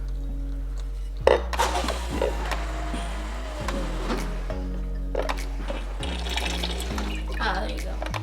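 Water streams steadily from a newly installed fridge water dispenser into a cup for several seconds, with a low hum and clicks from the machine underneath and a voice talking now and then.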